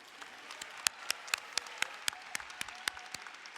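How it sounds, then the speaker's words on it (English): Sparse, scattered clapping from a graduation ceremony audience after a high school choir performance, individual claps distinct and irregular over a quiet room background. "Another round of applause for our Hornet Choir."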